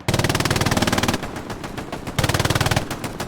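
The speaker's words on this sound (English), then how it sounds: "Got a little MG battle, looks like, shaping up down here." Machine gun exchange in a large multiplayer online shooter match, rapid bursts of automatic fire in two long strings with shorter volleys between, loud and close with no talking.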